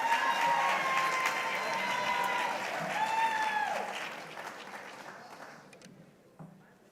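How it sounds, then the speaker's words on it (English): Audience applause for a sergeant at a sheriff's office promotions ceremony: steady, moderate clapping from a crowd that gradually thins and fades toward silence, with a faint stray clap near the end. "A round of applause for Sergeant Christian Sandberg."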